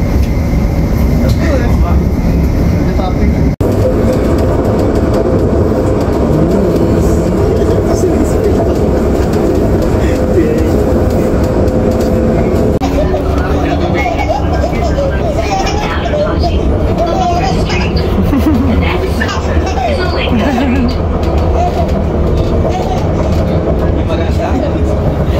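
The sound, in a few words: tram ride, rail vehicle moving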